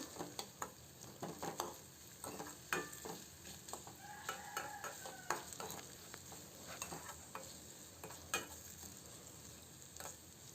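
Onions frying in a pan for a raw black-eyed pea palya give a faint, steady low sizzle, dotted with light ticking taps of a stirring spoon throughout.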